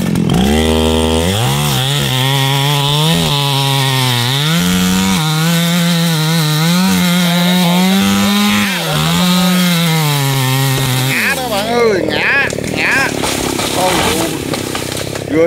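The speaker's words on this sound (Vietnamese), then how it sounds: "chú mình lấy cái máy cưa to nha các bạn" A large chainsaw cuts through a big rain tree trunk, its loud, steady engine whine holding for about eleven seconds before shifting into rougher, cracking noise as the cut finishes and wood gives way.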